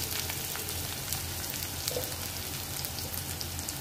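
Chopped onion and green chili frying in a pan with roasted coriander and fennel seeds, a dense, even sizzle like steady rain that holds at the same loudness throughout, close up with no voices.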